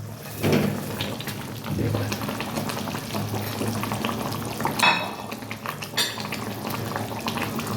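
Fried potatoes simmering in an aloo dum curry in a pan, a steady bubbling sizzle with occasional clinks of a spoon or utensil against the pan.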